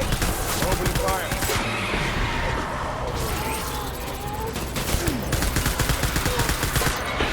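Rapid bursts of gunfire from the video game Death Stranding fill the clip, with volleys of sharp shots packed into the first seconds and again near the end, and a quieter stretch between them.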